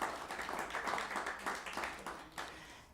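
Applause for the volunteer crew from a small concert audience, a handful of clearly separate hands clapping in an uneven rhythm that thins out toward the end.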